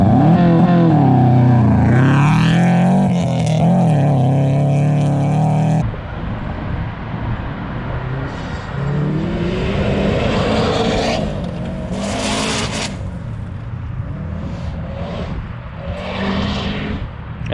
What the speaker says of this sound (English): I always like watching my car race.